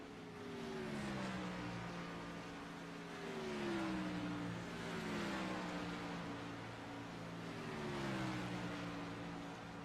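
A race truck pulls away from pit road after a two-tire stop at Charlotte, engines droning faintly in the distance with repeated rising-and-falling revving sweeps.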